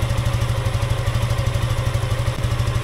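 A Suzuki Gixxer 155 motorcycle engine idles fresh after an oil change, a steady, close, even low-pitched chugging with a fast regular pulse and light mechanical clatter, running alone without talk.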